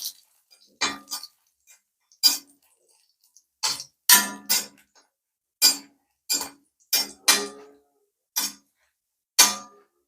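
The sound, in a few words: dried red chillies roasting on low flame in pan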